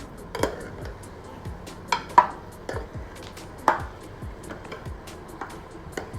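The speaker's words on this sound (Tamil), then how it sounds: "நல்லா அந்த மாதிரி கிளறி விடுங்க" A metal spoon scrapes and knocks against a pan while duck meat is stirred with masala for a spicy duck gravy, giving irregular close clinks and taps over a quiet cooking background.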